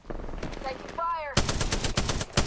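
Rapid automatic gunfire from the video game Apex Legends: loud close bursts of shots follow softer earlier pops and a short tonal game cue.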